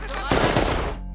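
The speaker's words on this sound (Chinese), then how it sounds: "枪声响起后" A sudden burst of rapid gunfire in a war film scene set among rocky hills against Taliban fighters, loud and close, lasting under a second before cutting off.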